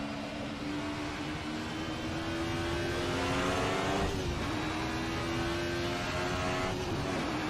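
Race car in the game Assetto Corsa, a steady high-pitched engine drone holding and rising slightly as it revs, loud and continuous, with no talking over it.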